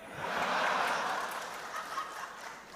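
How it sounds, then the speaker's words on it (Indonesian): Audience applause at an LDII gathering in Indramayu, Indonesia: a crowd claps in a broad, steady wash that swells early, then slowly fades, heard at moderate distance. "Sedikit-sedikit tepuk tangan."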